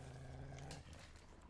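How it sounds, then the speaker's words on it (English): A pack of dogs in The Witcher 3 growling in a low, rumbling snarl that holds steady for most of the moment, then drops into a quieter, muffled growl near the end. "Yeah, I think that's a dog pack."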